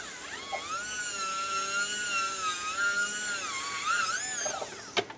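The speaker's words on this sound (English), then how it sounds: "take my burr and just round those corners, just like so" Dental bur whining steadily at close range as it rounds the corners of an in-house acrylic surgical guide, pitch wavering with pressure, then a brief sharp click at the end.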